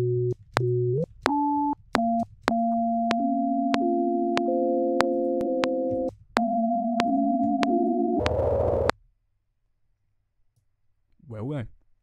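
Warped, time-stretched granular tones hold as steady buzzing pitches broken by sharp clicks, stepping up and down in pitch before a noisy burst, a short silence and a wobbling, bending tone.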